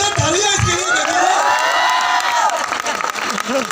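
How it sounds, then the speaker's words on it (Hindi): A crowd at a motivational business speech for Smart Value applauds and cheers loudly, with whoops and shouts rising over the clapping and a voice talking through it. "जोरदार तालियां इसके लिए दे दो।"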